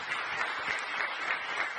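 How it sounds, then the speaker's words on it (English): A brief, faint wash of audience applause for performers at a home lessons recital, steady and distant-sounding, with no one speaking over it. "Let's give all the performers another round of applause."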